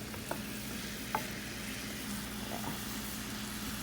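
Onions frying in a hot pan give a steady, even sizzle at moderate level, broken by a couple of faint utensil taps and stirring scrapes.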